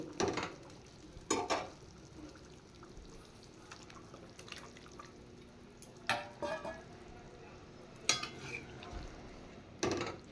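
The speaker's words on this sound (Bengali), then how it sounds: "ঝোল ফুটে গেছে এবার আমি বেগুনগুলো ছেড়ে দেব" Eggplant pieces dropped into a thin hilsa fish curry as it boils, a few separate splashing plops and clattering spoon or pot knocks over a quiet bubbling simmer, close and occasional.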